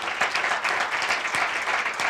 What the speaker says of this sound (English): I think you can have an applause.